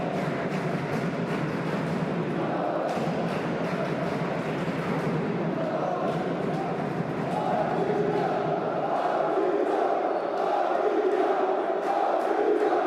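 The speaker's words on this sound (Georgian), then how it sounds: "არმიის გულშემატკივრის შეძახილები გვესმის ჩვენ." Fans of the Army basketball club chant in an indoor arena, rhythmic massed voices rising into sustained sung tones over a constant crowd roar, with sharp claps or drum hits punctuating it.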